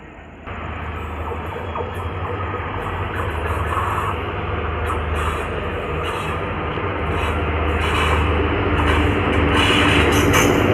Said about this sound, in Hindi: गाड़ी आ चुकी है, आइए दिखाते हैं आपको।